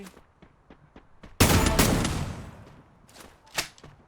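Gunfire in the game Free Fire: scattered single shots at first, then a loud close burst of automatic fire that decays, followed by a few more sharp shots.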